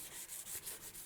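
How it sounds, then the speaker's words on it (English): Faint, steady rasping of sandpaper rubbed back and forth by hand on a steel knife blade, with soft rhythmic strokes and no voices. "I'm in the middle of the hand sanding process on this first knife"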